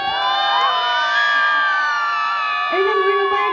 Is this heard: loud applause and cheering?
yes